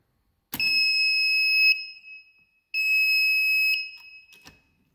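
Intermittent electric buzzer signalling an emergency fault in a motor control circuit, sounding two loud, steady tonal bursts of about a second each, separated by a short pause.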